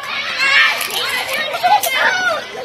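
Children playing and shouting outdoors, a cluster of high excited young voices calling and squealing at close to mid distance in an uneven, lively jumble.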